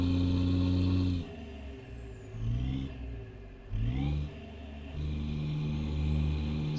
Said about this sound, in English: So I got a little less powerful engine in here. I got the 400 horsepower